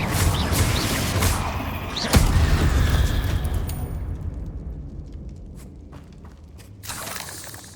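A Confringo blasting spell in Hogwarts Legacy goes off as a sharp, booming blast amid rumbling combat noise, followed by scattered crackling and debris sounds fading into quieter ambience.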